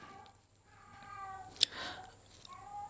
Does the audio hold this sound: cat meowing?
yes